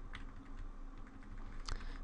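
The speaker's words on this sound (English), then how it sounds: "you can use the cursor keys to move it pixel by pixel" Cursor keys tapped on a computer keyboard while aligning a scanned A3 drawing: a couple of short, crisp clicks, one early and a louder one near the end, over a low steady room hum.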